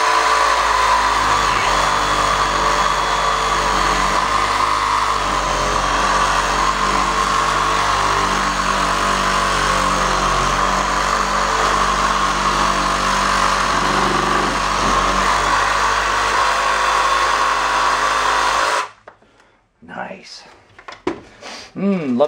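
A power saw fitted with a sharp, big-toothed pruning blade cuts through car rubber, giving a loud, continuous grinding whine that stops abruptly near the end, followed by brief faint sounds.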